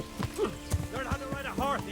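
Horse hooves clip-clopping in the medieval role-playing game Kingdom Come: Deliverance, a few soft thuds with occasional neighing-like tones, heard under game speech and ambience.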